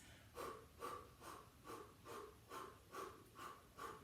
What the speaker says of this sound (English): Nice quick panting breaths.